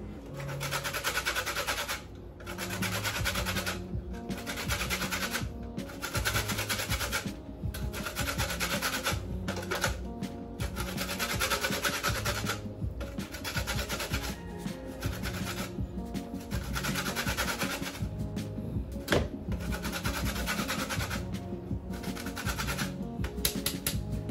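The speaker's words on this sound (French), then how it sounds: "je vais râper les zestes de citron" Lemon zest grated against a hand grater, a steady run of dry scraping strokes at close range in short repeated bursts with brief pauses between them, no voices.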